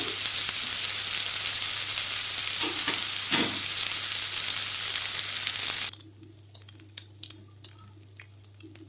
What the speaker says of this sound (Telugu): ఎర్రగడ్డ బాగా ఫ్రై అయిపోయిందండి.